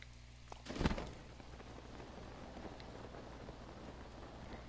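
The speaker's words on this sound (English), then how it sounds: "Yes, and it's squirting out all this rain," Rain in the video game Zelda: Breath of the Wild, a steady moderate downpour hiss that fills the scene after a brief louder burst near the start, with no voices over it.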